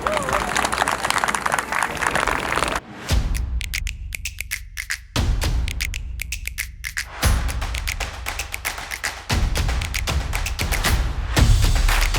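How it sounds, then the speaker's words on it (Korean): An outdoor crowd at the Goyang coffee culture festival applauds to open the event, bursts of clapping broken by brief pauses and thumps, fairly close and loud. "박수 부탁드립니다"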